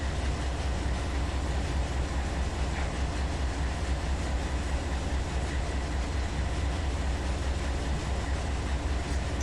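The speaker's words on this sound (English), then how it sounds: "Yeah, another stack train." A BNSF double-stack freight train rolls past in a simulated desert setting, a steady, loud rumble of railcars with continuous clickety-clack running throughout, no voices.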